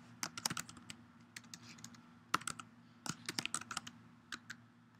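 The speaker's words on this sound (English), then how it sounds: "You just type in a username, an email" Rapid bursts of typing on a computer keyboard while entering a username and email, with crisp close clicks in quick irregular clusters over a steady low hum.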